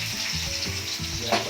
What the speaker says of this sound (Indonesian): Kita akan mulai proses tumis dengan menumis bawang putih